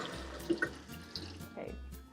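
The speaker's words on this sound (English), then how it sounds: "Put on the really hot water." Hot water runs from a kitchen faucet into the sink, a steady rushing flow with a low hum beneath and a few brief clinks, fairly quiet and close.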